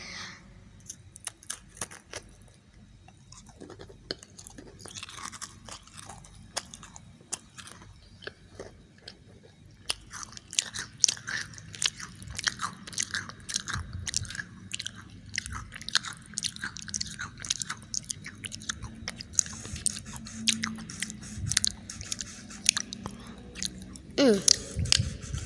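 Macarons being bitten and chewed close up, with repeated crisp crunches and soft mouth sounds spread through the stretch, with no talking.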